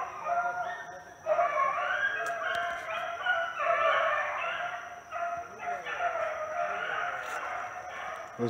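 Hunting dogs running before dawn bark and bay in a dense, continuous chorus at moderate distance, voices overlapping and wavering above a constant high-pitched background whine.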